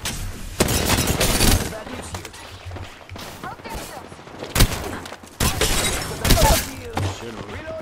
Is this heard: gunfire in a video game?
yes